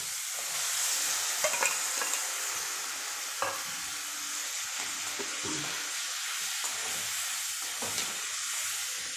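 Boiled green peas and potatoes are stirred into tomatoes frying in a pan for Kumbakonam kadappa, a faint, steady sizzle and hiss broken by occasional soft scrapes and taps of a spoon.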